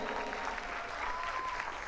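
Audience at a school annual function clapping for student speakers, a steady wash of moderate applause lasting the whole two seconds.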